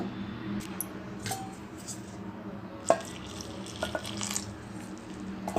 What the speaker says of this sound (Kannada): ಈಗ ಇದನ್ನೆಲ್ಲ ಸ್ವಲ್ಪನೇ ನೀರು ಹಾಕಿ ಬೋಂಡ ಅದಕ್ಕೆ ಕಲಿಸ್ಕೊಳ್ಬೇಕು